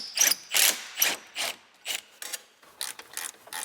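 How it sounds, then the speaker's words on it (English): A wrench ratchets repeatedly while loosening an old-style belt tensioner without a spring on a Subaru engine, giving a series of close, crisp clicking strokes in an uneven rhythm with short pauses. "we're just loosening up the tension on the belt"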